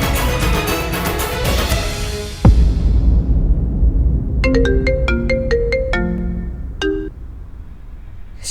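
A phone ringtone for an incoming call plays a bright melodic sequence of electronic tones after a swelling musical passage with a sudden low hit, loud and close with no voices.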